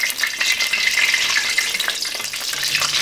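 Cooking oil heats in a pan for chickpea kottu, giving a steady, close, bright sizzle and crackle that runs unbroken for about three seconds with no voices.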